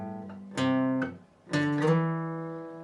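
An electric guitar plays a slow solo phrase, a few separate picked notes with a slide, each ringing out and decaying, played alone and fairly quiet.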